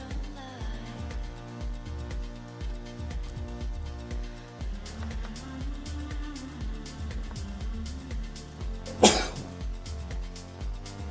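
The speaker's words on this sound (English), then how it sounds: "It's very hard to sneeze with glasses on." One sharp, sudden sneeze bursts out near the end over a steady rhythmic musical background.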